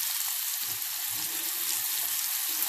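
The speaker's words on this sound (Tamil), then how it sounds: "இப்போ நம்ம வந்து கட் பண்ணின கேரட்டை போட்டுடலாங்க." Chopped carrots hitting a little hot oil in a pan, giving a steady, close hiss and sizzle that runs through the whole clip with soft stirring knocks underneath and no talk.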